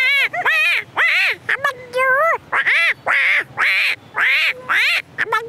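A voice imitates a newborn's crying in a series of about eight rising-and-falling wailing bursts, loud and close, separated by short pauses.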